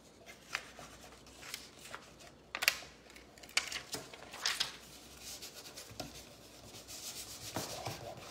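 A piece being peeled off decorative surfboard décor, soft rubbing and scratchy tearing sounds coming in short bursts, close and fairly quiet.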